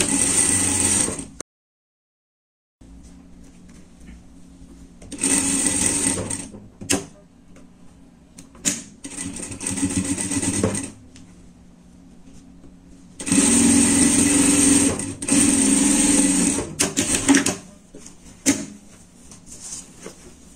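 A sewing machine stitches the underarm seam of a lined pet jacket in repeated bursts of fast whirring, separated by quiet pauses and small clicks as the fabric is adjusted.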